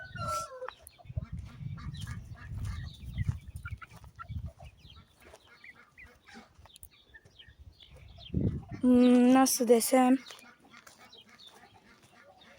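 Chickens and roosters cluck and squawk nearby, with a louder burst of crowing near the end; a person speaks briefly early on.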